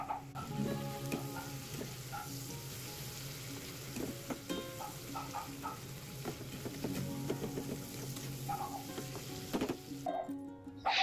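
Food sizzling and frying in a home kitchen during everyday cooking, including chicken tandoori being prepared, with a steady hiss and scattered clinks and stirring clatter throughout.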